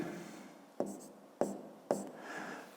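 Pen writing on paper during a fifth-grade maths exercise, three sharp taps in a row with soft scratching strokes between them, close and alone.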